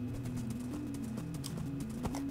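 Horse hooves clip-clop in a video game, an irregular run of close, crisp hoof knocks over a low tonal game music or ambience bed, with no talking.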